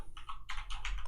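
Quick bursts of keystrokes on a computer keyboard while editing text in vim, close and fairly quiet, several short clusters of taps in rapid succession.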